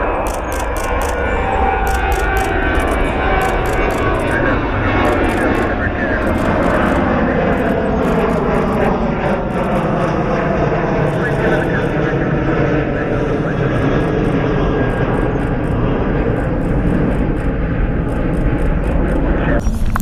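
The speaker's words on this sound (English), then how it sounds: "Air France taxiing to the runway here." An Air France Airbus A350 airliner taxiing to the runway at Cleveland Hopkins, its engines giving a steady, loud, continuous whine and roar that holds through the whole stretch, with some talk faintly beneath it.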